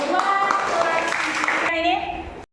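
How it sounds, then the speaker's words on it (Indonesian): A classroom of students gives a round of applause, a dense burst of clapping that continues steadily for about two seconds and then stops abruptly. "Kalau tidak ada, tepuk tangan dulu."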